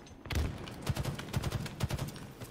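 Rapid gunfire from a video game scrim, with repeated sharp shots in quick bursts, loud and close, running continuously through the moment.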